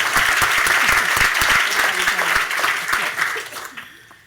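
Audience at a literary talk on the Jazz Age bursts into dense, steady applause that stays loud and full before thinning and fading toward the end.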